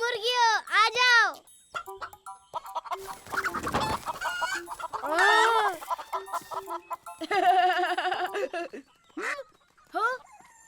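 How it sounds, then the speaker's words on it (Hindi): Cartoon chickens cluck and squawk in short bright bursts, with children's voices chattering between the calls in a lively farmyard feeding scene. "हे मुर्गियों, आ जाओ।"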